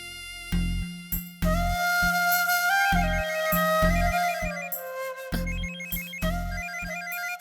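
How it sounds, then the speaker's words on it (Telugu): A phone ringtone in a Telugu TV serial scene plays as a bright repeating electronic melody, with steady beats and tonal phrases continuing throughout. "ఎవరు భాష ఫోన్ చేస్తున్నాడు."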